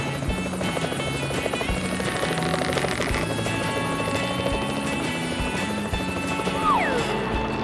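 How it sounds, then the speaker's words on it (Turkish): A helicopter's rotor throbs in a steady, loud, close beat, its engine whine layered over the chopping pulse for the whole stretch. "Helikopter."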